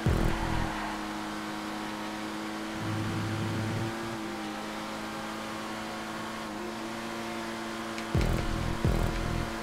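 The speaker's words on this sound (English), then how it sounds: "full throttle through the chicane" Supercar engine held at full throttle during a GTA 5 stunt race, a steady loud droning roar with a brief rise in pitch mid-run and heavier revving bursts near the end.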